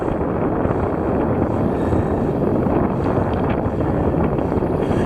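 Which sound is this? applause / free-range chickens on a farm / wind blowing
wind blowing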